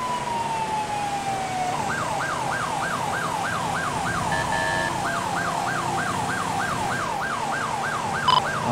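A police car siren in GTA V with the LSPDFR mod on a Caprice patrol car, a rising tone that settles into a fast, steady yelp cycling repeatedly, loud and close, with brief electronic beeps over it.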